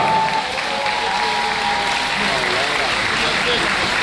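Audience applause at a public gathering in Poland, a dense, steady wash of clapping from a large crowd lasting throughout, with faint voices mixed underneath.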